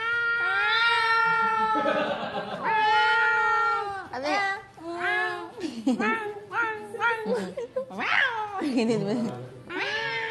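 People imitate cats with drawn-out meows and wavering, whiny cries, several in a row with some short broken yowls. Voices chatter between them.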